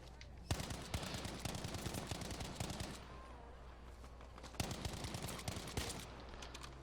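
Automatic weapon fire in Battlefield V, two long bursts of rapid, evenly spaced shots separated by a short pause, crisp and forward in the mix.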